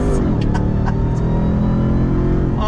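A 2021 Ram TRX pickup truck accelerating at full throttle, its engine roaring loud and close with deep rumbling and a rising pitch across the whole moment, no talk over it.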